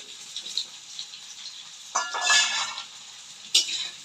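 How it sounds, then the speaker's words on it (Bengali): Onion and potato frying together in a pan for a Bengali fish-head cabbage dish, with a low continuous sizzle broken by a few loud spatula scrapes and clinks against the pan, close by. "পিঁয়াজ আর আলু একসাথে ভেজে নিচ্ছি"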